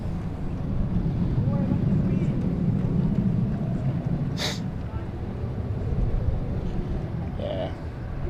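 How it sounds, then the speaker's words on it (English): Cessna Citation CJ3 Plus business jet just after takeoff at London City Airport, a steady broad roar that holds at an even level throughout, with a brief sharp noise partway through. "Cessna Citation CJ3 Plus."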